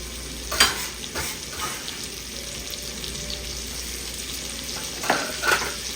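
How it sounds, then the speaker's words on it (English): Onions frying in hot oil in a pan, a soft steady sizzle with a few stirring scrapes and clinks near the start and end, no voices. "Alrighty, we're gonna add some onions to this pan."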